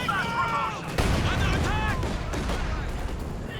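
Heavy mortar and Soviet mortar fire in a Company of Heroes 2 video game battle, a barrage of sharp booming impacts and gunfire bursts, loud and close, with a voice talking over the combat.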